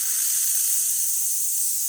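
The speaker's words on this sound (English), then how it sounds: "And I'll go ahead and let out some steam." A La Pavoni espresso machine vents a loud, steady hiss of steam from its wand, continuous and close, with no talking.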